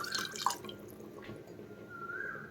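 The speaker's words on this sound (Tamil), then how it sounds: "நம்ம கிரேவிக்கு எந்த அளவுக்கு தண்ணி வேணுமோ தண்ணி ஊற்றிக்கலாம்." Water poured into a pot of mutton intestine gravy mixed with masala, a soft close trickle with a few drips over the first half-second, continuing quietly to the end.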